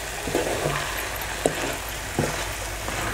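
Stuffed eggplant curry (bharli vangi) made with milk is stirred in a pan, with a spoon giving a few scattered scrapes and knocks over a steady low simmer, and no one talking.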